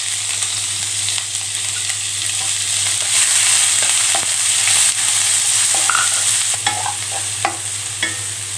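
Chopped large onion fries in a pan while being stirred, a loud close sizzle with a steady hum underneath and intermittent scraping from the stirring utensil.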